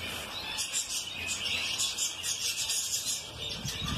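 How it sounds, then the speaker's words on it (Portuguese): A pair of red-rumped parrots at an exotic bird breeder's aviary gives steady, busy high chirps and tweets over a constant airy background, with no talking. "Esse aqui é um casal de Red Ramp, pessoal."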